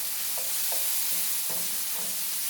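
Sausage and shrimp browning in a pan for a sweet peas dish, a dense, even sizzle with a few soft stirring scrapes at intervals, no talking.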